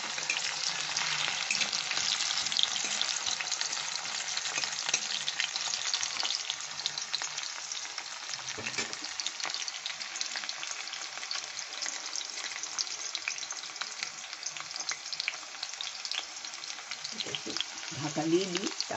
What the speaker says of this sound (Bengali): সেই আলুটা দিয়ে দিলাম। একটু কম আছে, ভেজে নিই